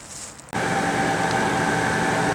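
A loud, steady mechanical drone with a humming motor tone from an RV air conditioner kicks in abruptly after a quieter moment and runs continuously, close by.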